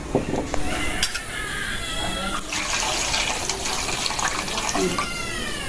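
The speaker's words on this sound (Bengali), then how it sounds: "এখন এই যে আমি ডাল ধুয়ে ডালটাও দিয়ে দেবো" Water splashes and runs steadily as lentils (dal) are rinsed in a bowl during home cooking of a chicken do-pyaza with vegetables, close and continuous, with a brief high cat-like meow and some kitchen clatter mixed in.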